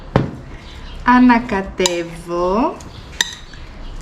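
Utensils scrape and clink against a bowl while a Greek salad is stirred, with a few sharp taps standing out. A voice speaks briefly in between.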